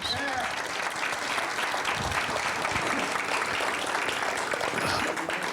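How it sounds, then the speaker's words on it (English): A hearty round of audience applause at a history talk on the art of Edward Borein, continuous dense clapping at a steady level, with a voice faintly present underneath. "So I'd like to give them a hearty round of applause."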